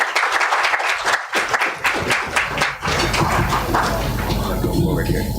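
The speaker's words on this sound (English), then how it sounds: "Please give a round of applause." A round of applause from the audience at a monthly technical meeting, a dense wash of many hands clapping, close and steady, fading as a voice starts speaking.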